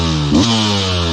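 A Beta 200 two-stroke dirt bike engine snarls loud and near, with a quick blip of revs rising and settling back to a steady high buzzing tone.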